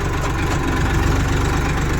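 A steady, close tractor engine drone with a low rhythmic chugging, running continuously without pauses or voices.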